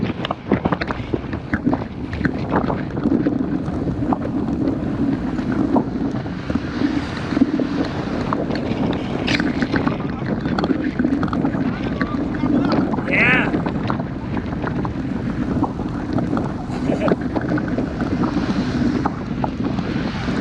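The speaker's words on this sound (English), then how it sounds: "the wind's blowing from our left right now and behind us" Wind buffets the microphone during a group road bicycle ride on the outskirts of Tomball, a constant loud roar and rumble that continues throughout.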